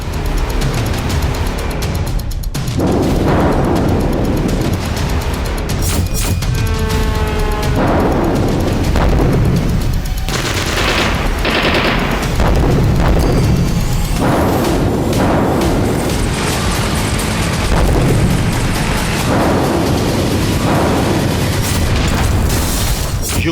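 Explosions from attacks on Crimea as repeated loud booms and bursts roll through continuous heavy rumble, one blast after another over the whole stretch with no pause.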